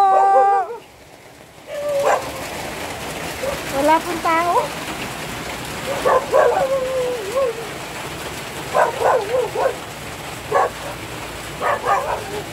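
A dog barks in short repeated bursts, spaced a second or two apart, over a steady hiss of rain, with a person briefly speaking at the start.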